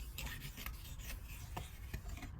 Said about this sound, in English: with a wooden spoon, we're gonna scrape up all the brown bits